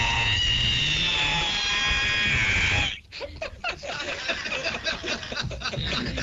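A voice imitates the long, shrill creaking squeal of an ironing board being opened for about three seconds, then breaks into snickering laughter.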